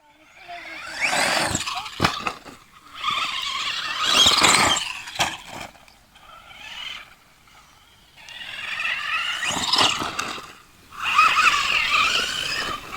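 An RC monster truck drives and skids, giving several loud, hissing tire squeals in bursts of a second or two, with brief quieter gaps between passes.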